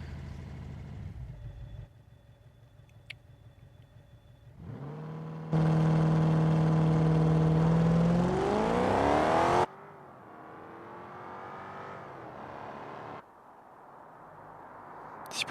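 A car's engine revs in the BeamNG driving game, climbing through loud sustained pitch sweeps in bursts and dropping back to a lower idle-like drone between runs, with no talking.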